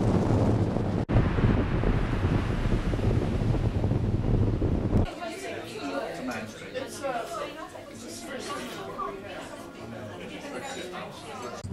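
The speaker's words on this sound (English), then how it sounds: "It's really windy here at the edge of the cliffs." Strong wind buffets the microphone with a loud roar for several seconds at a cliff edge in southern England, then eases as voices chatter underneath the gusty outdoor noise.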